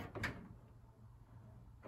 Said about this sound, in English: you can simply open the door